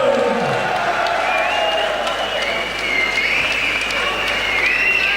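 A crowd at a Thai K1 fight applauds and cheers the winner, with sustained clapping and scattered whoops filling the hall while an announcer's amplified voice carries over it.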